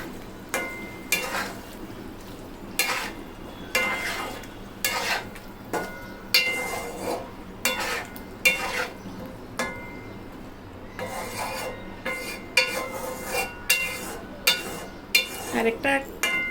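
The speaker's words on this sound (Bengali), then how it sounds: "এখন এটাকে ভালো মতো নেড়ে চেড়ে মিশিয়ে নিব।" A spoon stirs chicken tehari in a pot, making repeated scraping and mixing strokes in an uneven rhythm, close and moderately loud.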